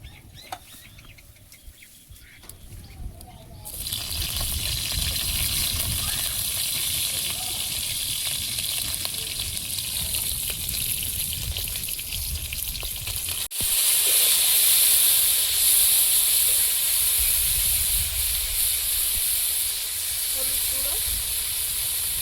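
Nigella seeds drop into hot oil for a papaya curry, and a loud, sustained hissing sizzle bursts in after a quiet start. It runs on with a brief surge midway, while speech comes and goes underneath.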